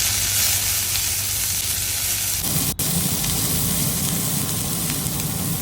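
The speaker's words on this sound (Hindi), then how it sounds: "कलियाँ थोड़ी भून गई हैं तो मैं अभी इसके अंदर अनियन ऐड कर रही हूँ" Garlic cloves and onion frying in a pan for a red tomato chutney: loud, dense, continuous sizzling that shifts in texture partway through, with one brief sharp click, no voices.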